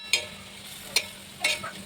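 Vegetables frying in a pan while being stirred, a low steady sizzle broken by three sharp scraping strokes of a spatula, close and distinct.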